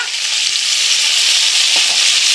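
A ginger, cumin, coriander, green chilli and onion paste fries in hot oil, giving a steady, close, loud sizzle with a faint scrape of stirring near the end and no talk.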